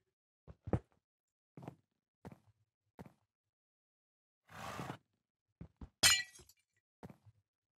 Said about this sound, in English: And then break that glass.